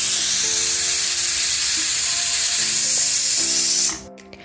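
A pressure cooker full of peas pulao vents steam in a loud, steady hiss that runs without a break for about four seconds, then cuts off suddenly, with no talk over it.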